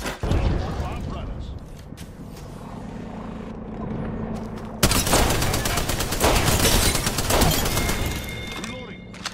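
Rapid automatic gunfire rattles in a firefight in Apex Legends, with scattered shots at first, then dense sustained bursts, under game voice lines and mechanical reload clatter.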